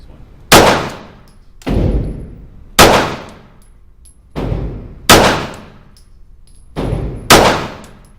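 Pistol shots ring off a steel target on an outdoor range, six sharp cracks each followed by a bright metallic clang and a decaying ring, spaced about a second apart, loud and close.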